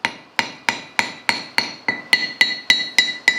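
Hammer strikes a Vevor anvil mounted on a stand with only silicone beneath it, about a dozen evenly spaced metallic blows with short, damped ringing, close and fairly loud.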